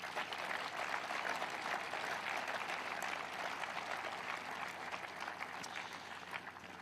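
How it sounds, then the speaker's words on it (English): Round of applause from the audience at a tennis Hall of Fame induction ceremony, sustained dense clapping heard fairly faint and distant, continuing evenly for several seconds with no talk over it. "Please give him a round of applause."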